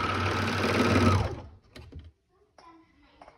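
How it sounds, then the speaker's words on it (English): A sewing machine runs in one steady, loud, close burst while stitching the shoulder seams of a child's romper, then stops, leaving a few soft handling clicks and rustles. "I'm going to sew for this side and that side."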